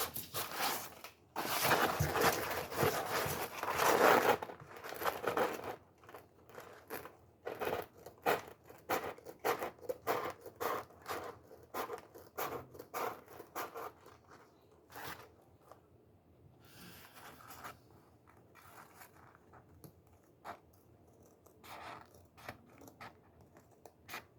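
Scissors snip through a marked sheet while cutting out a homemade megaphone, a run of sharp, rapid crunching cuts, loud at first, then thinning into scattered quieter snips and rustles.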